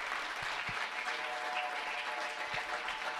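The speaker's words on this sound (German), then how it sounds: "So danken wir der Truppe, die jetzt noch einmal auf die Bühne tritt," An audience applauds a musical theatre troupe returning to the stage, steady dense clapping close and loud throughout with a few heavier thumps.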